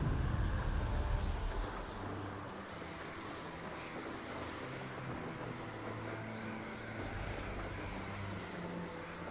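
Steady rushing wind roars loudly and continuously while flying through the air in Hogwarts Legacy, with a low rumbling bed and no voices.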